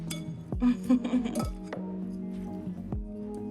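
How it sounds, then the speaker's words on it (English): Tongs toss beef pieces with all-purpose flour in a bowl for a red wine beef stew, giving a series of close, bright metallic clinks and taps that rise and fall in short bursts. "I'm gonna pour a little bit of that and we're gonna give it a toss. Get you some tongs."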